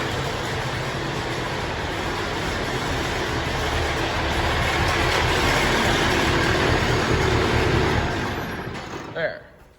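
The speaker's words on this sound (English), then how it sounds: "this is just such an absolutely terrific running tractor" A farm tractor engine runs at a steady, loud idle close by, a continuous low rumble with mechanical hum that holds for most of the stretch before dropping off sharply near the end.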